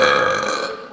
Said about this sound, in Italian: gara di Rutti